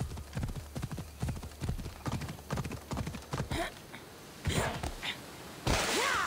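Horse hooves clip-clop steadily in a video game, a quick repeating rhythm of close, fairly loud footfalls that stops partway through, followed by a few scattered thuds and a short burst of noise near the end.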